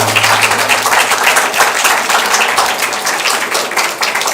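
A crowd at a women's summit applauds continuously, dense clapping at full volume that holds steady for several seconds.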